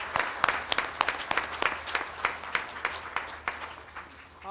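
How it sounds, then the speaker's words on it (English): Applause from an audience of family and friends at a 2017 Owensboro Community & Technical College GED graduation ceremony, made of scattered, distinct claps at fairly close range, with no voices. "give everyone in this family and friends that are in the room a big round of applause"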